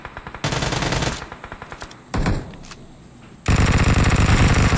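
Automatic gunfire in the mobile shooter game BGMI rattles out in loud, close bursts: a long stream, a short sharp burst, faint scattered shots, then another sustained volley.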